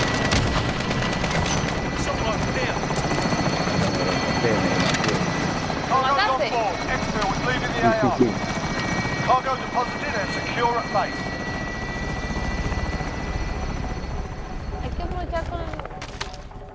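Helicopter in the video game PUBG, a constant rotor drone under bursts of gunfire, while players talk over it.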